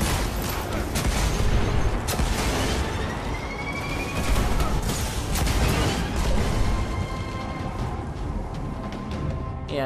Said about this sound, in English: 10 shots. Scorch cannon. Powerful and very rare indeed.